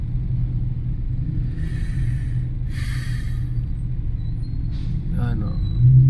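Slow road traffic held up by garbage collection crawls past, a steady low engine rumble close by with a brief swell of vehicle noise near the end, while people talk over it.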